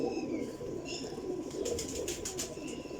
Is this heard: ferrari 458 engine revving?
no